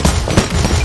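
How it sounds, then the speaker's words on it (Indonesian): Rapid bursts of laser fire from an aggressive boss in a Skibidi Toilet war video game crackle loudly in a short, dense volley. "Kali ini bosnya lebih agresif dengan tembakan laser, guys."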